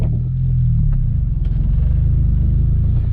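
Manual transmission car cruising in third gear, its engine giving a steady low rumble close and loud throughout, with no talk.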